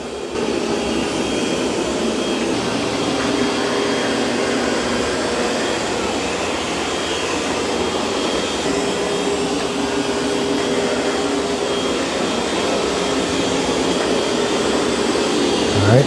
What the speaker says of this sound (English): It's doing a good job vacuuming that carpet.